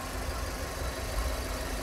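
The 2-litre engine of a 2008 Hyundai Tucson 4WD with automatic transmission idles with a steady low rumble and faint ticking, even and unchanging, heard up close with no talk.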